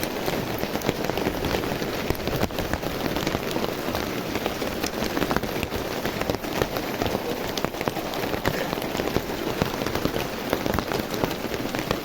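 Steady rain pours down at an outdoor harvest thanksgiving gathering for a farmers' group, a dense, loud, continuous patter on surfaces with no voices over it.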